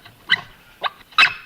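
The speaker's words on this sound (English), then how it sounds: "Sounded like a dog." A dog barks three times in short, separate bursts, the third loudest, with a quiet room behind it and no talking.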